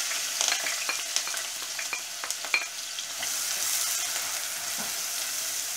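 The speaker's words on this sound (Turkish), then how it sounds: "Kızgın yağın içine soğanlarımı atıyorum." Chopped onions sizzling in hot oil in a pan for a rice pilaf with anchovies, a steady bright frying hiss with scattered small pops and crackles throughout, close and continuous with no talking.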